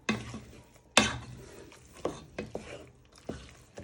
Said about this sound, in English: you want to give it a good stir in